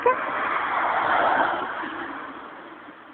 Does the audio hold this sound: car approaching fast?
yes